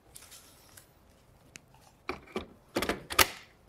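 A part of a ViewSonic VP2786-4K 27-inch monitor snaps into place, a few quiet clicks followed by sharper, louder plastic snaps near the end.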